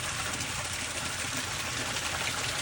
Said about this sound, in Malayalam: സൗണ്ട് എന്താ ഈ വെള്ളച്ചാട്ടത്തിൻ്റെ?